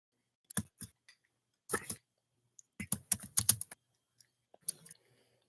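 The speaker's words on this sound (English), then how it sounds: "Yeah, I'm just typing." Bursts of typing on a computer keyboard, quick clusters of close, crisp key clicks separated by short pauses, with no talking.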